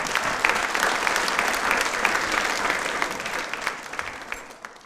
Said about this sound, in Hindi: इस अचीवमेंट के लिए एक बार तालियां जोरदार बाबा साहेब के लिए जाएं।